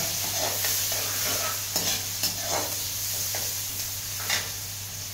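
Onions and curry leaves fry in a pan along with mustard seeds, giving a steady close sizzle with soft scraping stirs now and then and a low constant hum underneath.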